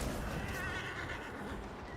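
A horse neighs in the video game Highguard, a loud drawn-out whinny over a dense, noisy game soundscape with hooves clopping faintly beneath.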